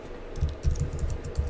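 Quick bursts of typing on a computer keyboard, a string of close, crisp key clicks in an uneven rhythm with no talking.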